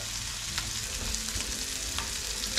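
Shrimp sautéing with garlic in a hot pan, a continuous crackling sizzle with faint clinks of stirring, heard up close with no voices.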